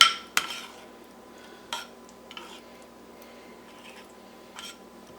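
Cooked beetroot being stirred into yogurt in a bowl for Kerala-style beetroot pachadi, with a few sharp spoon clinks against the dish and soft wet mixing sounds in between, close and fairly quiet.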